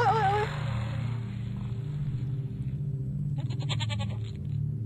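A video game goat gives one short, wavering bleat right at the start. A steady low rumbling drone follows, with a brief buzzing burst near the end.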